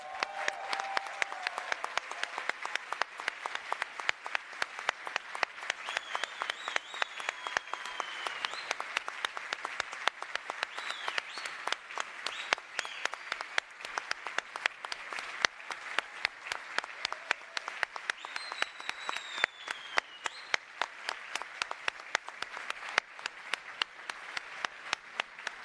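Graduation audience at a 2023 bachelor and master class ceremony applauding loudly and steadily, a dense wall of clapping with scattered cheers and whistles, sustained throughout without a break.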